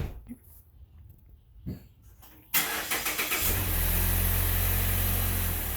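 A car engine starts: faint rustling and a few thumps give way to a cranking starter that catches, then settles into a loud, steady idle nearby.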